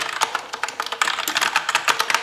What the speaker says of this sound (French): il est bruyant parce que c'est un clavier mécanique, c'est évident, mais on a pas de bruit de ressort